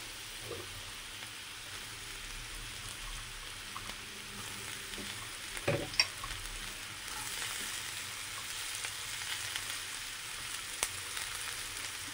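Beans and carrots sizzle steadily in a pan for vegetable fried rice, a soft continuous frying hiss with occasional stirring scrapes, one brief louder clatter near the middle, no talk.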